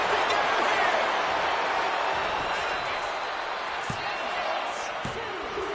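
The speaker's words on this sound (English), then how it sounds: "Listen to this crowd. Feel it." A large arena crowd in the video game WWE 2K25 roars steadily throughout an Elimination Chamber match, a dense continuous wash of cheering with a few sharp thuds and a commentator's voice over it.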